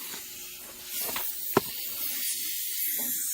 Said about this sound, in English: hit it with a little compressed air and get all the shavings out